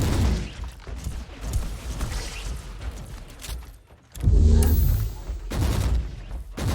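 Short bursts of gunfire from Warhammer 40,000: Inquisitor combat, several loud rapid volleys with booming impacts, a brief lull, then a heavy blast followed by more firing.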